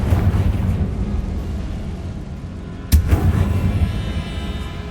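A Confringo fire spell explodes in Hogwarts Legacy, a single sharp burst standing out partway through over a steady low rumble of game ambience, with no voices.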